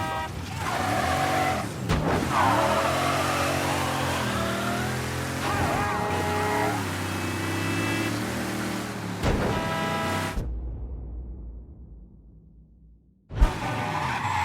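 A car in the game Mafia 3 drives with its engine revving and rising and falling, tires squealing at moments, under background music and talk, then a brief near-silent pause before the engine noise returns.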